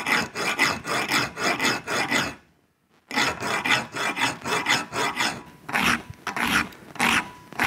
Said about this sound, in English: So I can file this.